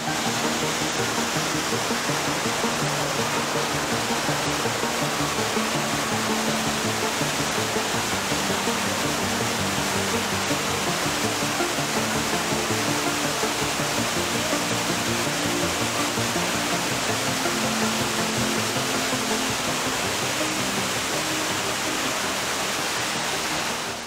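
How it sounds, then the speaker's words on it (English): Loud, steady rush of water driven by pumps through the vortex tunnel of the Poseidon's Fury theme-park attraction, a dense broadband roar that holds unbroken for the whole stretch with no voices. "the pumps ramped up, sending a wave of water over the bridge before accelerating to the necessary speed"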